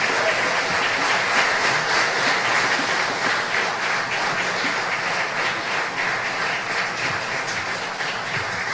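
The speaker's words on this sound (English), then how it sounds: "Another round of applause for Mr." At a tribute ceremony for Belizean patriots, an audience keeps up a continuous, even round of clapping, a steady rustling wash of many hands at moderate loudness with no break.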